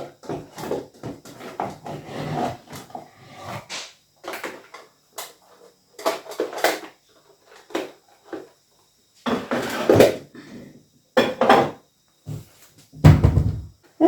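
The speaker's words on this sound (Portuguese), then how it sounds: "Agora eu vou arrumar esta taça aqui no sítio" A freshly washed wine glass and other dishes are put away in a home kitchen, with scattered clinks, knocks and wooden cupboard thumps between quiet pauses.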